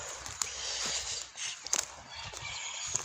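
Backyard chickens, a small hen and a rooster, with soft clucks and brief calls over scratchy footsteps and rustling close by, fairly quiet overall.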